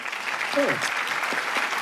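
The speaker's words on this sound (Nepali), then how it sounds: "कृपया मिस्टर अविरल प्रताप अधिकारी र स्वीकृति ढुङ्गेलको लागि जोरदार ताली जाओस्" An audience at a poetry talent show applauds contestants, a dense wash of clapping throughout with a brief tonal voice or whistle sliding down midway.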